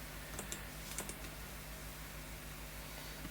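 Quiet, close keyboard typing: a few quick key clicks in a short burst near the start, then a lone tap, over a low steady hum.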